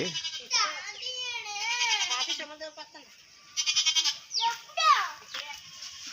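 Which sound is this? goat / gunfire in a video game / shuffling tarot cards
goat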